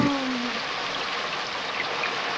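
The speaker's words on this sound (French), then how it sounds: "Tiens, maintenant il pleut." Cartoon rain falling, a steady dense hiss of pouring water, continuous and fairly loud, with a brief tone at the very start.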